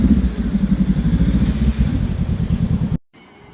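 A motorcycle engine putters loudly close by on a narrow car-free road in Lampang, Thailand, with a rhythmic throbbing drone, then cuts off abruptly near the end.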